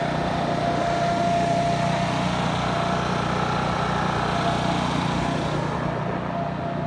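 A generator runs outdoors in a steady, continuous engine drone that holds at an even level throughout, with no voices over it.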